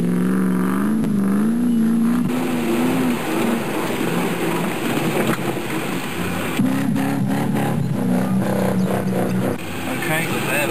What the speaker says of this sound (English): Get the vehicle rolling well.